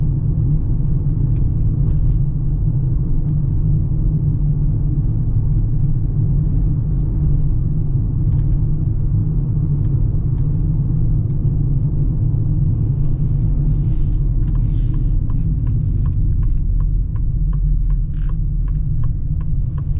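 A 2025 Ford Bronco Sport Badlands Sasquatch drives along with a constant low road rumble and a steady drone of tire noise inside the cabin, with a few faint ticks near the end.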